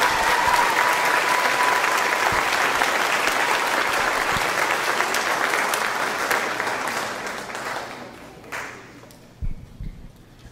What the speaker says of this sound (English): Let's give one big round of applause for our senior award winner.